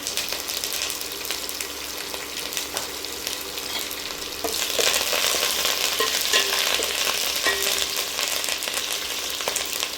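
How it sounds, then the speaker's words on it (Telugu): Tempering for ivy gourd and peanut chutney sizzles and fries steadily in hot oil with curry leaves, a broad crackling hiss that grows louder midway and carries on alone with faint stirring. "ఇప్పుడు మనం పచ్చట్లో వేసుకున్నాం తాలింపు ఇందులో వేసేసుకున్నాము"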